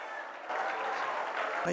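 Steady hand clapping from a church congregation, a dense continuous patter that grows slightly louder toward the end.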